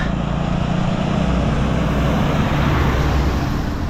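A truck passes on a road during an evening bicycle recovery ride near Twin Falls, Sta. Elena, Camarines Norte, heard as a steady, loud broadband rumble that persists throughout with no speech.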